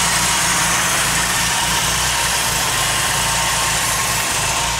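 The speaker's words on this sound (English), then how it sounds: "It's a four-cylinder engine." A four-cylinder engine in an Austin-Healey replica idles steadily nearby, a constant low rumble with a smooth, even throb and no voices.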